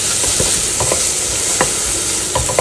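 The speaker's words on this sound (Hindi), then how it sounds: "अब इसमें मैंने डाला है नमक और हल्दी, इसको मिला लेंगे, इसको भून लेंगे" Capsicum and tomato frying with salt and turmeric, a close, loud sizzle as a spoon scrapes and stirs the pan in irregular strokes, with no voices over it.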